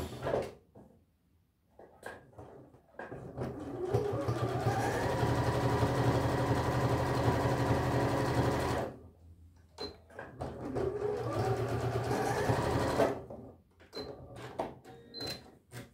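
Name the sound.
sewing machine stitching a tracksuit pocket with straight stitch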